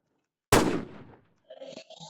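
A single loud gunshot from a shooting video game cracks out close and sharp, its blast decaying over about half a second, followed by softer clanking and mechanical game effects.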